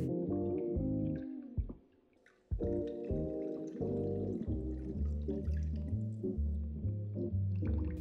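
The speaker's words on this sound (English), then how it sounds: "Let's pour it." Mezcal cocktail is poured into a glass, a steady liquid trickle with a brief pause partway through, heard up close over soft background music.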